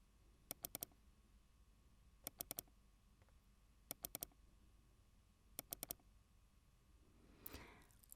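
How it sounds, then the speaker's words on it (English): A computer mouse clicks in quick bursts of three or four sharp clicks, repeated at regular intervals against near silence, close and crisp, ending in a brief soft rustle. "That sound was a clicking mouse."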